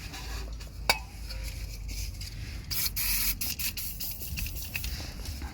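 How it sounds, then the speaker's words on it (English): An aerosol can of WD-40 sprays onto a nut on a Toyota Prius anti-roll bar drop link, a short hissing burst amid faint workshop clinks and rustles. "So before I undo them, I can apply plenty of WD-40."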